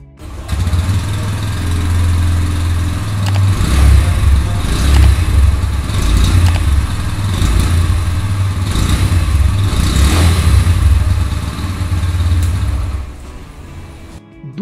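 A 2025 Bajaj Pulsar N125 with a 125 cc engine and underbelly exhaust runs close by, a loud steady low engine drone with several blips of revving, alone without talk.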